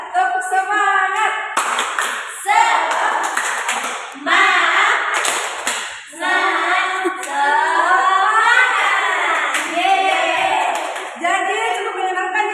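Classroom of students performing a chanted clapping routine, loud, close group claps in a tight repeated rhythm interleaved with many voices chanting together in short bursts.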